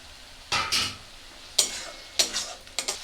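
Fried okra, already browned, tipped into a pan with salt, chili powder and cashew paste water and stirred: several short bursts of sizzling and scraping, close and fairly loud, with no talking.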